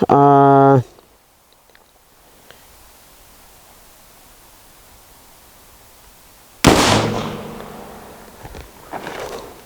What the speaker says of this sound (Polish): Dobra, to teraz będzie pierwszy strzał.